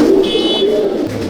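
A champion Andhra breeder pigeon in a loft coos up close, a short loud throaty warble with a brief higher buzzy overtone partway through.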